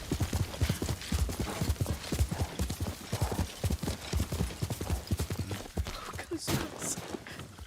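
Hooves of Kage, a horse in the game Ghost of Tsushima, clip-clop in a steady quick rhythm close by, with a brief whinny-like sound near the end.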